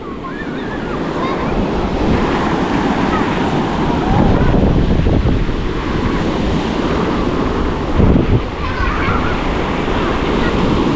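A strong river current and waves rush at a swimming spot in a loud, steady roar, with heavy wind buffeting the microphone.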